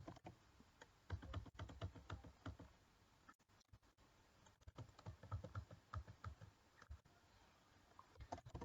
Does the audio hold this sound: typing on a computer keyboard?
yes